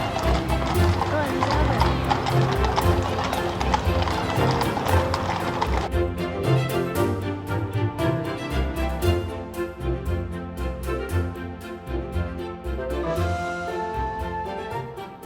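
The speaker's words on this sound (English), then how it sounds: "We happened to see like 4 different carriages pulling out of Buckingham Palace." Horse-drawn carriages leave Buckingham Palace in London with a steady clip-clop of hooves on pavement, heard under loud music or crowd noise that continues throughout.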